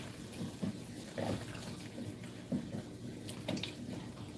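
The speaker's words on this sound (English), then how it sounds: "I'm just gonna pour it in the strainer pod" Pineapple hibiscus juice pours into a strainer pod to catch the solids, soft splashy gurgles coming in several short bursts, close and quiet.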